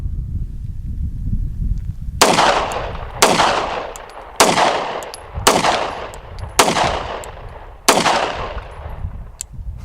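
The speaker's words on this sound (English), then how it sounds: "Let's go ahead and get some more rounds through it. A little bit faster now." Six loud firearm shots at an outdoor range, evenly spaced roughly a second apart, each a sharp crack with a trailing echo and no voices.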